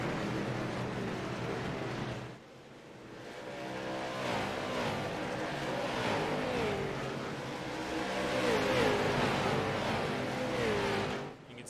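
Stock race cars roar around the Nashville Fairgrounds Speedway short track, with a steady layered engine drone and cars swelling past at a distance, revs rising and falling as the pack circulates.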